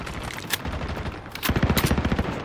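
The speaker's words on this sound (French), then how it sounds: "Pfiou, ça tire de partout." Rapid bursts of automatic gunfire crackle in a chaotic video game firefight, with shots coming from all sides; scattered early shots build into a dense, loud, rhythmic machine-gun stream in the second half.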